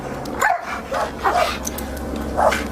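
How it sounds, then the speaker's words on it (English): A police dog barks repeatedly during a SWAT arrest, with several sharp, close barks spaced out over a few seconds against low background noise. "just go control the dog"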